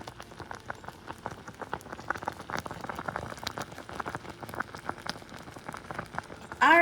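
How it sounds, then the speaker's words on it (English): A cranberry curd mixture cooks on a stovetop, bubbling softly with faint irregular pops and spatters throughout and a louder burst at the very end. "we're gonna put this on the stove for about 10 minutes or just until the cranberries have popped"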